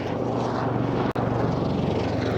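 A Lynx helicopter maneuvers at an airshow, its rotor and engine a loud, continuous roar with a steady beating pulse, broken by one very brief dropout.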